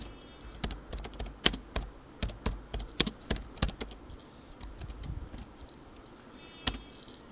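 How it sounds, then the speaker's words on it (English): Python code is typed on a computer keyboard in a run of crisp, close key taps, steady then thinning out to a few final presses, quiet and with no talking. "let's once again type the input function with a variable."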